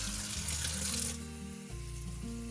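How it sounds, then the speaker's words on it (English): Tap water runs steadily into a sink while broccoli is rinsed in a colander, a continuous splashing wash with a faint clatter partway through. "And then I'm gonna give it another rinse over here."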